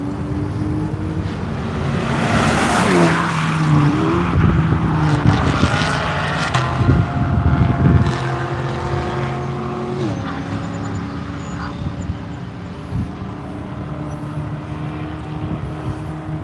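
A race car at the One Lap of America track event at NCM slides loose through turn 1, its engine loud and close, revving and dropping in pitch as it works the corner, then pulling away in a sustained drone.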